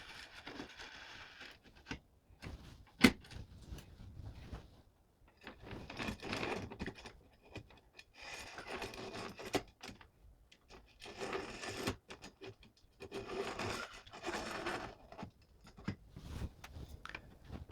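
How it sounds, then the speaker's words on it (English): Linear rails and their carriages are slid into place on the Z-axis of a Neptune 4 Plus or Max 3D printer, making quiet, close scraping and sliding with a few sharp clicks and knocks, in intermittent bursts. "Slide the linear rails into place, taking great care that the carriages do not fall off the rails."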